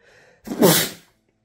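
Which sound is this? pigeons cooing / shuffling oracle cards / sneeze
sneeze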